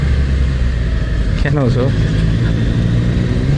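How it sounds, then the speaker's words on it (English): A motorcycle engine idles loudly and close, with a brief rising rev in the middle as the rider blips the throttle. A voice speaks over the steady rumble. "Should we do a rev bomb?"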